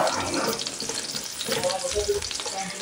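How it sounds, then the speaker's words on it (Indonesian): Garlic sautéing in hot oil in a wok, a steady loud sizzle and crackle with occasional stirring scrapes, continuous throughout with no talk. "Kalau sudah panas, kita mau tumis bawang putihnya,"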